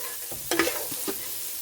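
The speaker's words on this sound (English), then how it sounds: "Stir that up a little more" Biscuits-and-gravy is stirred in a pan, a few soft scraping strokes over a low background hiss with no talking.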